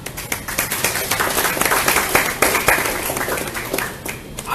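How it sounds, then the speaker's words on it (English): Audience applause at an evening talk event in Kuala Lumpur, with dense steady clapping from a crowd filling the room for several seconds without voices. "that deserves a lot of applause"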